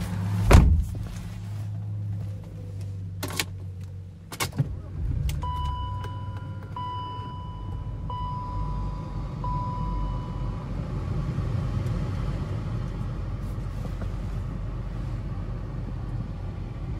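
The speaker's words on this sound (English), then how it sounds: "Now let's go ahead and start up the 528." The 1999 BMW 528i gives a sharp door thump and a couple of clicks, then its engine starts and settles into a steady low idle rumble, with faint chimes early on.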